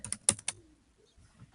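A handful of quick, quiet clicks from a computer keyboard as a search is typed in, clustered in the first half second, then faint rustling.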